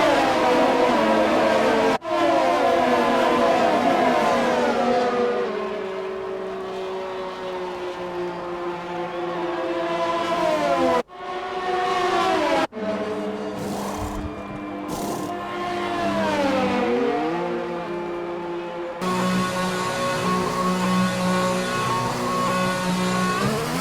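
A Formula 1 car from the F1 2020 racing game drops through the gears into the pit lane. Its high engine whine steps down across several tones, with close, loud revving and short cuts as it slows for a tyre stop.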